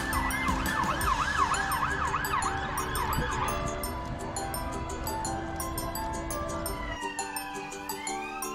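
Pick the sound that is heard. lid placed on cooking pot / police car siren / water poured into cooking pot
police car siren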